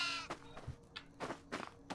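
Goats in the horror video game Devour bleat in short, nasal calls, several small cries one after another, close and fairly quiet with faint thumps between them.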